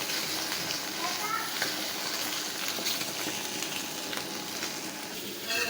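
Nola fish fry in a little oil on an electric stove, giving a continuous close hissing sizzle at steady loudness with faint crackles and no clear pauses.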